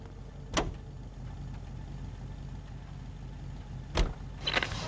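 A car is driven through streets in the L.A. Noire video game: a quiet, steady low engine hum with two sharp clunks, one early and one near the end.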